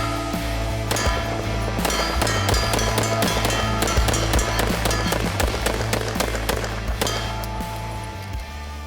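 An H-TAC double-stack 1911 pistol from Phoenix Trinity Firearms fires a long, rapid string of loud, sharp gunshots outdoors, the cracks coming in quick succession for several seconds before tapering off.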